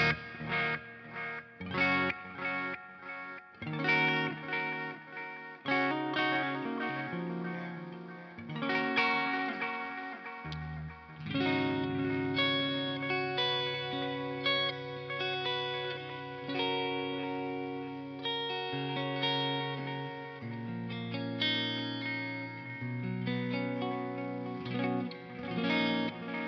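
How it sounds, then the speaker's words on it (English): Electric guitar played through a 1987 distortion and delay pedal gives gritty, overdriven chords and riffs with echoing repeats and shimmering effects, steady for nearly half a minute. "You can use it as a distortion and a delay in front of your amp"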